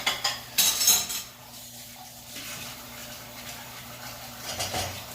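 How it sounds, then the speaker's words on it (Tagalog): Dirty plates and cutlery clatter and clink as they are loaded into a kitchen dishwasher, with a sharp burst of clinks early on and lighter rattles after. "lalagay ako ng mga maruruming plato sa dishwasher"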